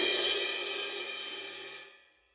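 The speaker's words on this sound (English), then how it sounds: "I have a Brilliant Crash on my left that sounds like this." A single strike on a bright Brilliant crash cymbal, its broad shimmering wash ringing out loud and alone, then slowly decaying before cutting off near the end.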